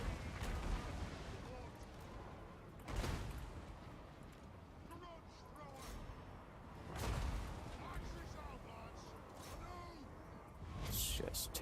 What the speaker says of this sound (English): That's some decent artillery fire there.